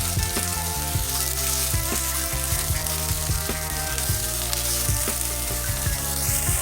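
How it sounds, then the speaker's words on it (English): Minced garlic and grated ginger sizzle steadily in a hot pan for a minced meat stew, with a continuous loud frying hiss and occasional utensil scrapes and clinks. "you want to add in your minced garlic and also your grated ginger. And we're going to let that saute for 1 minute"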